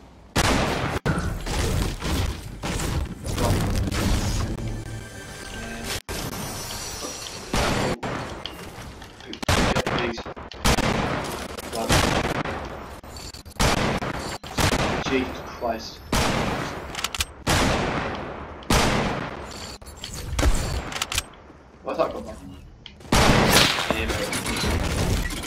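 Gunfire rings out during a sniper shootout in Fortnite, with loud repeated shots and bursts spread across the whole stretch, some sharp single cracks and some rapid volleys, and a voice heard now and then.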